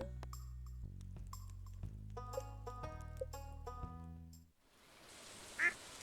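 A single short duck quack sounds near the end in Stardew Valley, faint and brief, after a stretch of gentle game music.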